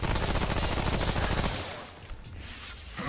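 Gunfire in the video game Remnant: From the Ashes: a loud, dense burst of rapid shots for about a second and a half, then a quieter stretch with a few scattered reports.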